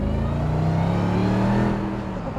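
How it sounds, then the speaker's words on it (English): Mercedes SLR McLaren with side pipe exhaust and supercharger whine, a loud steady engine drone with sustained tonal whine and slowly shifting pitch, heard close and continuous throughout. "hearing the supercharger whine and the exhaust in the back."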